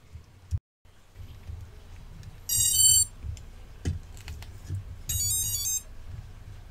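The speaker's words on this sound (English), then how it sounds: "You will hear it a series of beeps." Electronic speed controllers of an EMAX Nighthawk Pro 280 mini quadcopter beeping after its LiPo battery is plugged in: two short bursts of high, rapid musical tones about two seconds apart over a faint low hum, with no talk.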